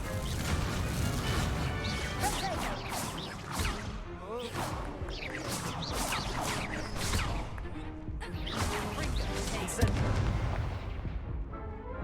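Repeated bursting impacts of fire spells cast in a Harry Potter–style video game, a dense run of crackling blasts and crashes layered with game music and effects, loud and continuous throughout.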